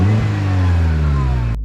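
Renault Sandero RS with a cold air intake, recorded at the intake as the engine revs, a loud steady droning roar that holds for over a second and a half, then cuts off abruptly.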